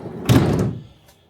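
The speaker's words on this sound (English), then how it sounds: "And then if we open these side doors," Sliding side door on a Volkswagen ID. Buzz electric cargo van rolls open with a single loud, close rumbling slide and thunk, then settles into quiet.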